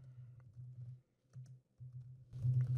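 Typing on a computer keyboard produces short, quiet bursts of key clicks with brief pauses between them.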